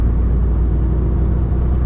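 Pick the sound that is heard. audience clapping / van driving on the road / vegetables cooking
van driving on the road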